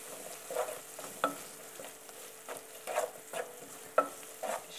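Fish stock cube being dissolved and stirred into a pan for fish stroganoff, giving a soft steady sizzle with a spoon scraping and tapping in a loose rhythm, quiet and close, with no talking.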